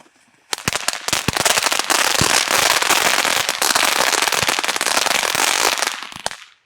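Black Cat fireworks from a Bucket O' Fun assortment crackle and pop outdoors, a loud continuous barrage of rapid sharp bursts lasting several seconds before cutting off.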